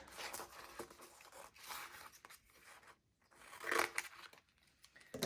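Scissors trimming planner stickers, with a few quiet snips and paper crinkles in separate bursts, close and faint.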